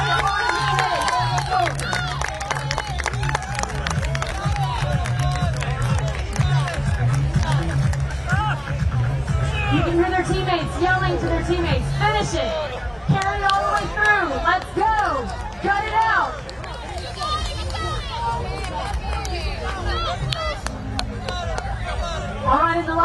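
A crowd at a Washington parade event cheers competing teams racing through a fitness heat with sandbags and burpees. Loud, continuous hubbub and scattered shouts mix with occasional clapping, while an announcer talks over it throughout.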